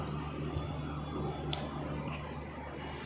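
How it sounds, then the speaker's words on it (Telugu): Spices get stirred into a simmering prawn curry, giving a continuous soft, wet squishing and scraping with a low background hum throughout. "ఈ స్పైసెస్ అన్నీ బాగా కలుపుకోవాలండి."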